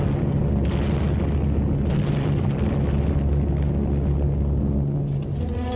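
Bombs burst in Allied air raids on enemy strongholds in World War II archival film footage, a dense, muffled run of deep booms and rumbling blasts rolling together without pause.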